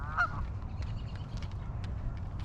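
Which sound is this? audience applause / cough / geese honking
geese honking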